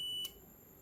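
A multimeter's continuity buzzer sounds a steady, high electronic tone that cuts off sharply after about a quarter second, leaving quiet room hiss.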